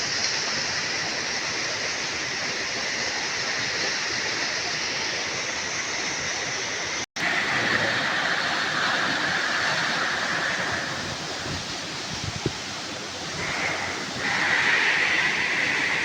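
A waterfall pouring down from a mountain in Benguet, a dense, steady roar of rushing water that stays loud and continuous throughout, with faint sounds underneath.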